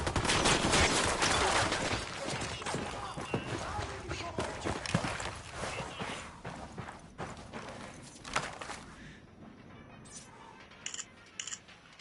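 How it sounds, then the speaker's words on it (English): Gunfire in the video game Ghost Recon Wildlands, with dense rapid bursts and shots crowding the first half, then thinning to scattered reports under a talking voice. "I'm shooting these fuckers."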